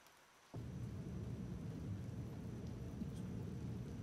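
Rain in the video game Empyrion Galactic Survival: after a moment of near quiet, rain suddenly starts and continues as a steady, soft hiss with a low rumble beneath it.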